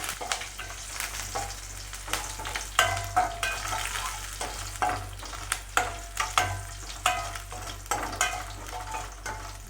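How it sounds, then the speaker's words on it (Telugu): Cumin, mustard seeds, garlic, broken dry chillies and curry leaves tempering in hot oil for tomato pappu, a loud crackling sizzle with sharp pops and stirring scrapes recurring in quick bursts. "ఇది కాస్త చిటపట అనేంత వరకు వేయించుకుంటే సరిపోద్ది"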